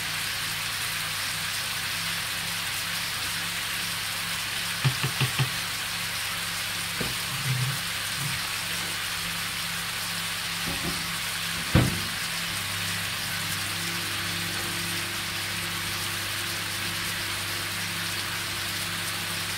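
Pieces of food browning in a pan before broth and carrots are added, a steady, loud sizzle that holds throughout, with a few faint clinks and knocks over it.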